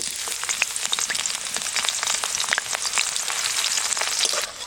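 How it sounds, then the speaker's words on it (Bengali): Busy crackling sizzle of chopped onions frying in mustard oil, dense with tiny pops throughout, steady and fairly close. "জিরেটা হালকা একটু পুড়ে এসে এবার দিয়ে দেবো কুচিয়ে নেওয়া পেঁয়াজ"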